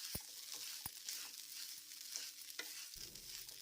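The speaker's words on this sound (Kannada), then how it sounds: "ಈಗ ಇದಕ್ಕೆ ಹಸಿಕಾಯಿನ ಹಾಕ್ಕೊಳ್ತೇನೆ. ಕಾಯಿನ ಎಣ್ಣೆಯಲ್ಲೇ ಸ್ವಲ್ಪ ಹುರ್ಕೋಬೇಕು." Fresh grated coconut sizzles gently in oil in a pan while being made into mango chutney, a soft steady frying hiss with a few sharp clinks of a stirring spoon.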